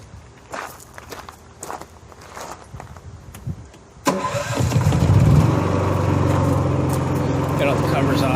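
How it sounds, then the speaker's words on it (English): Footsteps and handling noises come first, then a Honda gas-powered arc welder generator engine starts up and settles into a steady, fairly loud close running hum. "Let's fire it up one last time here."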